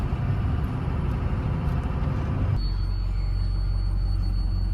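A truck engine idling with a thin high whistle from the turbo or exhaust, a steady rumble under a faint tone that sharpens partway through, close by with no talk.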